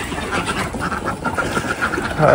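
A flock of ducks quacks continuously and overlapping at close range, a busy, noisy chorus.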